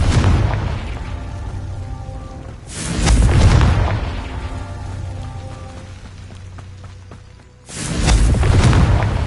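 Confringo fire spell detonations in Hogwarts Legacy, with loud, close booming blasts arriving in two waves, each followed by a crackling, rumbling tail and a steady low roar between them.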